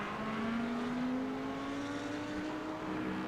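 A GT3 race car engine at Silverstone holds a loud, steady high note that climbs slowly as the car accelerates, a continuous droning roar with no talk over it.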